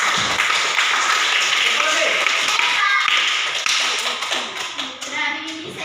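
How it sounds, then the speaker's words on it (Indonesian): Students in a classroom clap together, a loud, brisk burst of hand claps with a voice audible, fading into scattered taps and chatter near the end. "tepuk tangan untuk guys"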